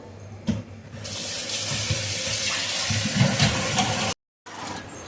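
Tap water runs steadily into a sink while rice is rinsed, a close, full splashing rush that swells and shifts as the grains are stirred, then cuts out briefly near the end before resuming.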